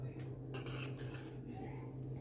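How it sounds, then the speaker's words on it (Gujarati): Gujarati-style tempering is gently mixed into surti khaman in a pan, making steady close clinks and scrapes of a spoon against metal over a low continuous background hum. "આ રીતે ખમણમાં સરસ વઘાર મિક્સ કરી લેવાનું"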